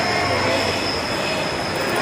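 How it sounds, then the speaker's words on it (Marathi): A train stands at a railway station, heard as steady loud rail noise with a high whining squeal running throughout and faint background voices mixed in. "ट्रेन लागलेली आहे बाहेर"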